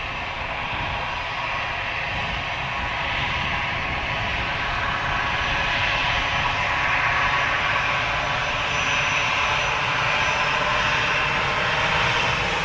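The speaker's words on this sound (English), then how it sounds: "Aer Lingus off to Santiago. Registration EIDWK, Airbus" An Aer Lingus Airbus A320-200 departing Dublin Airport produces a sustained, loud broadband jet roar with a steady engine hiss that holds evenly throughout, nearby and with no talking.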